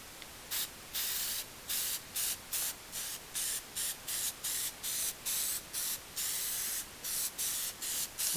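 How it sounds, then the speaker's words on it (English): Short bursts of aerosol spray paint hiss over fresh welds on a sicklebar mower, about a dozen separate blasts of varying length with brief gaps, close and steady, with no talking. "so I'm going to go ahead and spray paint the welds."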